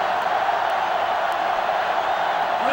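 Steady roar of a sellout stadium crowd in the NCAA Football 2005 video game, a dense, constant wash of cheering that runs unbroken throughout at fairly high level.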